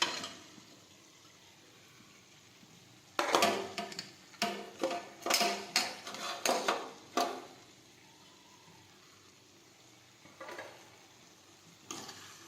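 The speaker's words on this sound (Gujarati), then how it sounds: "હવે આપણે પૌવા છે તે નાખી દઈશું" Flattened rice (poha) tipped into a hot pan for a breakfast dish, giving a burst of loud crackling, rustling bursts over about four seconds, then quiet, with a couple of faint clinks near the end.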